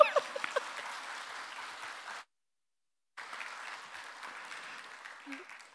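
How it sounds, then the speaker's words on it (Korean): A church congregation applauds after a pastor's ordination is announced during a sermon. Moderate clapping fills the room, drops into a second of silence, then resumes more softly and tapers off. "박수 한번 쳐주시죠"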